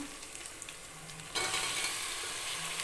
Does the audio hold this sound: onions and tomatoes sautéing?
yes